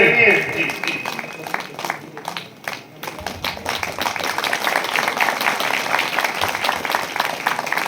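Audience clapping at a Hindi poetry recital, thin and uneven at first after a few sharp claps, then swelling into steadier, fuller applause that continues to the end.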